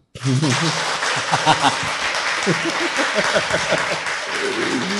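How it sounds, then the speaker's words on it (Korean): Studio audience applauding steadily for a guest introduced as a former police official, loud and continuous crowd clapping with voices talking over it throughout. "일단 박수."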